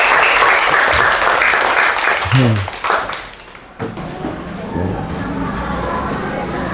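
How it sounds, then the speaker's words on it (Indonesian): A burst of clapping from a group fills the first few seconds, then fades out, leaving quiet room noise and a brief thump. "Tepuk tangan untuk temennya yang sudah mempraktekkan."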